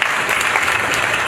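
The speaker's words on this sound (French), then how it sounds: "merci d'applaudir ce grand monsieur" Wedding guests at a civil marriage ceremony in Troyes clap together in a dense, steady burst of applause that fills the room, loud and close, with no voices standing out.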